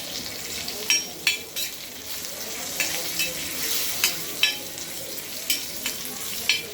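Spices, ground coriander, red chilli powder and curry leaves sizzle steadily in hot oil in a pan for peanut chaat, with frequent sharp scraping clicks of a spoon stirring, close and continuous.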